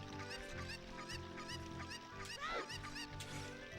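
Cuckoo chicken in Zelda Ocarina of Time, clucking in repeated short squawks over steady game music, one louder sliding cry near the end.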